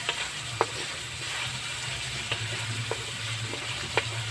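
Food frying in a pan gives a steady close sizzling hiss, broken by a few sharp pops and crackles, with no voices.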